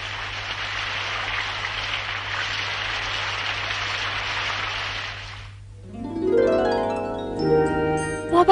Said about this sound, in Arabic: كان المطر يهطل مساء كل يوم في الغابة